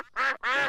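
Two loud, nasal cartoon duck quacks in quick succession, each short and buzzy, close and clear with a brief gap between them.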